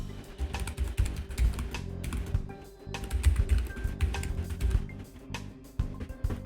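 Keys clacking on a computer keyboard as a name is entered, a steady run of close, crisp taps with brief pauses between bursts.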